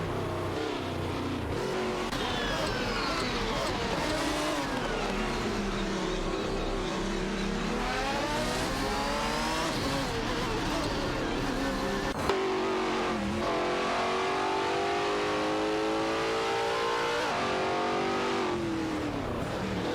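Racing video game cars, including a Chrysler Viper GTSR and a Lamborghini Murcielago RGT, roar continuously as several engines rev up and down through gear changes, loud and close with overlapping pitches and no talk.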